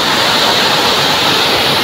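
A river swollen by the previous day's rain rushes near a waterfall, making a loud, continuous dense roar of churning water with no pauses.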